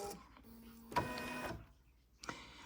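A home embroidery machine whirs and clicks as it prepares to stitch the final step of a small in-the-hoop notebook cover, with short motor runs and mechanical clunks, close and fairly quiet.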